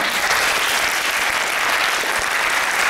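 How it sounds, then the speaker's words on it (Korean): Sustained applause from a university forum audience following a company CEO's lecture, dense and steady throughout at close range with no talking over it. "다시 한번 감사의 박수를 보내주시면 감사하겠습니다."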